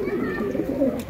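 High-flying Sarang puri pigeons give soft, low cooing calls that repeat and blur together over a short span, close and moderately loud, with faint room noise beneath.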